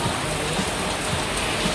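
Steady rain pours down outdoors at the Timbermill in Australia, a dense, even hiss of drops on surfaces filling the whole moment with no break.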